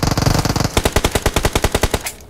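Rapid automatic gunfire from an upgraded gun in a shooting video game, loud and close, about fifteen evenly spaced shots in a steady rhythm after a brief burst of noisy clatter, ending abruptly.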